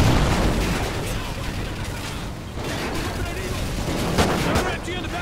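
Dense gunfire and shooting from Call of Duty Ghosts, with machine guns firing in a continuous loud barrage with bursts and impacts, under occasional speech.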